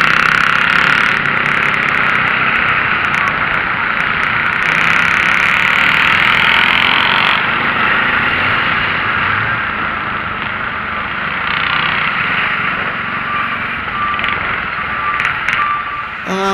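A security guard's motorcycle idles nearby on a street in San Fernando, a steady mid-pitched engine rumble running throughout at fairly loud level, with a slight change partway through.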